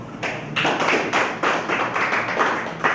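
A burst of clapping from an awards-ceremony audience, steady and dense for a few seconds with no voices over it.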